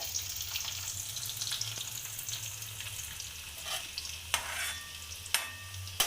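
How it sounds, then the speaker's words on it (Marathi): Seven or eight crushed garlic cloves fry in a pan, a steady close sizzle with occasional stirring and a few sharp utensil knocks near the end, with no talk. "त्याला पकडीनी असं थोडासा ठेचून घेतलाय तो लसूण घालायचा"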